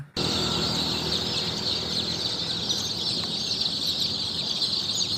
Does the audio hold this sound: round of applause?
no